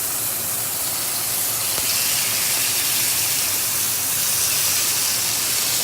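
Sauce poured into an overheated pan for a grilling meal hisses and steams in a loud, continuous, close rush that holds steady throughout.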